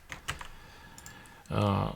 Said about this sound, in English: let's start typing some stuff in here